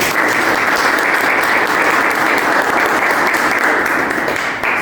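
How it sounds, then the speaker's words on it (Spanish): A cardiology conference audience claps loudly and continuously for the speakers, a thick, even wash of applause sustained throughout without a break. "les pediré unas fuertes palmas antes de comenzar"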